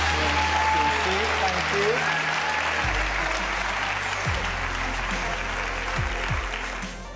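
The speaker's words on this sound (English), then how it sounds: "give her a round of applause" A studio audience at a magic show bursts into sustained applause, a thick, even roar of clapping that holds steady before easing slightly, with a brief spoken thanks over it.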